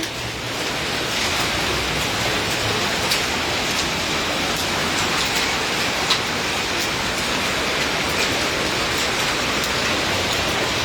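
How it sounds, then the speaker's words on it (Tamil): Freezing ice rain pours steadily onto the ground and road in Arlington, a dense, even hiss of pattering drops that stays loud and unbroken throughout. "ஐயோ தரையெல்லாம் ஐஸ் மழை"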